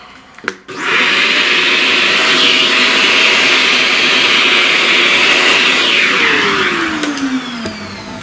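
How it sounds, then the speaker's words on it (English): A vacuum cleaner switches on and roars steadily while sucking up eraser dust from a pastel flower drawing, a loud whining drone that winds down toward the end. "eraser dust."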